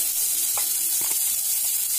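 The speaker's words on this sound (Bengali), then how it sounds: "পেঁয়াজটাকে তেলের সাথে নাড়াচাড়া করে ভেজে নিচ্ছি" Chopped onion frying in hot oil, left from frying dried chillies, while being stirred: a steady close sizzle with a few soft scraping strokes.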